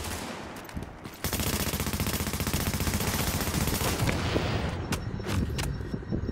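Sustained heavy gunfire in the video game Rogue Chronicles roars loud and continuous for several seconds, with a few sharper single shots near the end.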